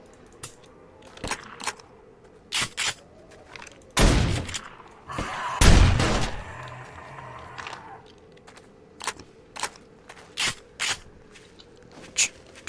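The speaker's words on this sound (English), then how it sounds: "It's got like popping sounds. Like, you know, gunfire from far away." Scattered sharp pops and thuds of distant gunfire in the video game 7 Days to Die sound at irregular intervals, with two heavier booming blasts in the middle over a faint steady background.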